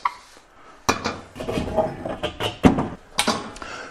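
A large frying pan and a wok being handled on a gas stove, sharp metallic clanks and scraping knocks in irregular bursts, close and fairly loud, with short quiet gaps between.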